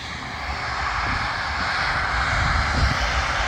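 Steady roar of an Airbus A340 cargo airliner's engines spooling up at a distance at Bournemouth Airport, a broad rushing hum that swells slightly.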